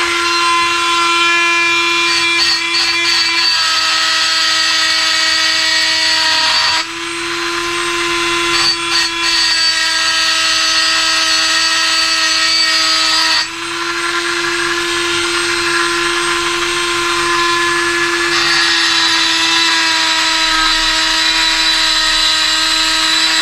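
High-pitched power tool whine while porting a Lambretta TS1 scooter engine, a loud steady grinding drone close by with small pitch shifts and brief dips as the tool is eased on and off the metal.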